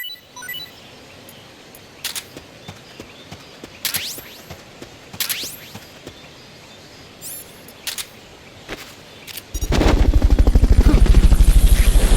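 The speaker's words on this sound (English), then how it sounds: "Fulton recovery helicopter is complete." In the video game Metal Gear Solid: Peace Walker, a steady, loud helicopter rotor drone kicks in near the end after a stretch of quiet ambience with scattered bright electronic blips and chimes.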